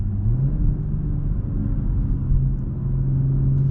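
A 2022 BMW M440i xDrive engine pulls steadily under acceleration, a loud, deep, continuous rumble heard from inside the cabin with no gaps for gear shifts.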